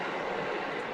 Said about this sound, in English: That was an Amtrak with a window open.